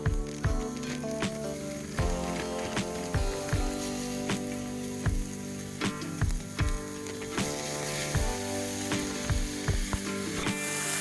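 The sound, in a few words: frozen hamburger meat sizzling in a hot pan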